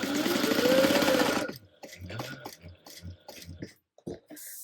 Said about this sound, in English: you are going to go ahead and stitch shut only the raw edges